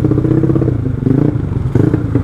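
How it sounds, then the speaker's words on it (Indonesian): A modified Yamaha Mio 200cc scooter with changed camshaft and a DOS muffler idles loudly and steadily close by, its low throbbing exhaust pulsing in an even, chunky rhythm with a slight rise near the end. "Suaranya enak banget motornya."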